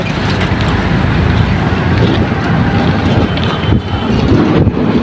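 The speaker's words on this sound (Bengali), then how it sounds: "গাড়ির শব্দ আর গাড়ির শব্দ" Loud, continuous roar of road traffic passing on a bridge over a river, mixed with wind rumble, engines droning steadily close by with no pauses.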